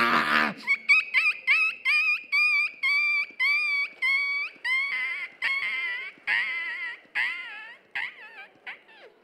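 A human voice imitates a small dog crying after being beaten during a stage mimicry show, a long run of rhythmic whimpering yelps and wailing cries, loud and close with no other sound.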